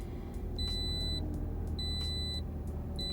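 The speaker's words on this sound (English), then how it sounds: "Stop beeping." Car beeps in a regular pattern, three sustained high electronic tones about a second long with short gaps between them, over a low idling rumble inside a vehicle.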